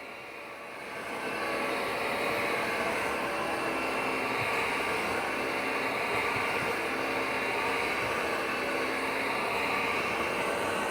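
A Shark CarpetForce EX500 carpet cleaner runs on carpet in suction-only mode, a steady loud motor whine and airflow roar that ramps up in the first second and then holds constant.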